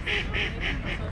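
A duck quacks four times in an even, steady rhythm, close and fairly loud, over a low outdoor rumble during a road trip stop in Queenstown.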